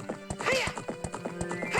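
A horse in Zelda: Ocarina of Time 3D gallops with rapid, rhythmic hoof clops and lets out a couple of whinnies as it runs into a wall, loud and close in the game mix.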